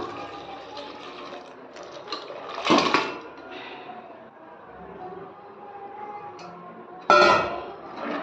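Water is poured into a metal pressure cooker with chicken in two short splashing bursts, with a faint clink of cookware between them, close by.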